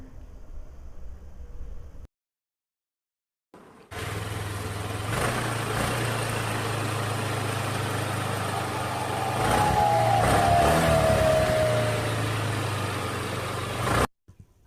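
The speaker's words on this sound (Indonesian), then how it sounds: "kita hidupkan mesinnya" A modified motorcycle engine starts after a short silence, then runs with a steady, close idle rumble that swells briefly before cutting off near the end; no one talks.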